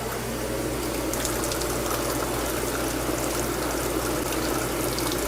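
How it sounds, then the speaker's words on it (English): Tap water runs hard and steadily over a lab specimen being rinsed clean of diamond particles, a constant broadband rush with no pauses, close and fairly loud throughout. "You want to make sure that the water's flowing hard enough to actually wash away any diamond particles"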